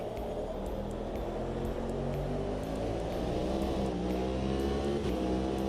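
Racing car engine in a racing video game, a steady loud drone that shifts pitch through gear changes and revs, continuous and close with no talking.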